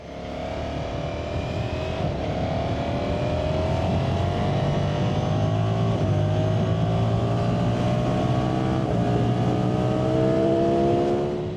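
A 2025 Ducati Streetfighter V4S engine drones steadily while the bike is ridden, the pitch climbing gradually under strong wind noise, loud and continuous with no talk.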